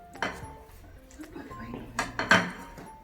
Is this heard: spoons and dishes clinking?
yes